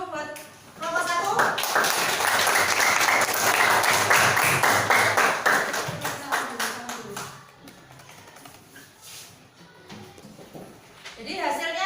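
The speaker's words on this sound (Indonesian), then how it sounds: "tepuk tangan dulu buat kelompok 1." Classroom applause for a student group after a presentation: a burst of many hands clapping rapidly for several seconds, then tapering into scattered claps and children's chatter, with another brief round starting at the end.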